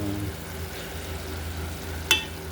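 Pechay Tagalog and sardines sautéing in a pan, giving a steady close sizzle with a low hum beneath and a brief sharp scrape of stirring near the end.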